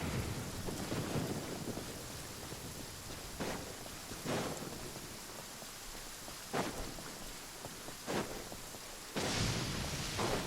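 Lightning and thunder during a storm in the video game Genshin Impact: sharp cracks recur every few seconds over steady rain, with a louder burst near the end and no talk.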